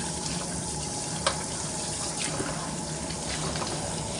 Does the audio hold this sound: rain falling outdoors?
no